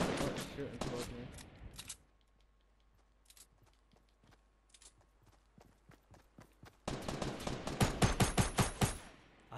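Fortnite Battle Royale squads match gunfire: a loud burst of rapid shots opens, then quieter scattered single shots, then a dense, loud volley of rhythmic rapid fire near the end.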